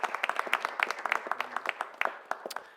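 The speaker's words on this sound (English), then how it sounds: "Let's give them a round of applause." Audience applause at a Juneteenth Jubilee Commission event in Louisville, a steady run of dense, sharp hand claps lasting a few seconds at moderate volume with no talking.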